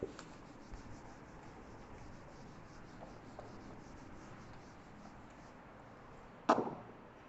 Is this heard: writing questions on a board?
yes